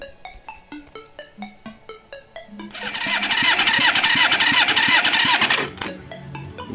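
A Suzuki GSX 550 motorcycle engine with a twin-coil ignition is cranked by the starter in repeated whirring pulses, then catches and runs loudly for a few seconds before cutting off.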